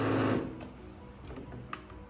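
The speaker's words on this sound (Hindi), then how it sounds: "ये इसके वाइब्रेशन के मोटर्स हैं" A Cosmic Byte Callisto wireless gamepad's dual vibration motors give a loud, short mechanical buzz that quickly fades to a faint, rattling hum.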